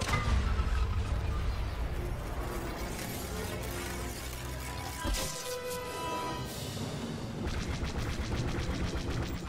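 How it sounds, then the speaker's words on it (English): Seismic charge explosions dropped from a small vehicle in the space combat of Star Wars Battlefront II, a loud burst of shattering blasts and rattling mechanical effects followed by a distinctive ringing sweep, with no talking. "How the fuck does he have this many seismic charges in that tiny vehicle?"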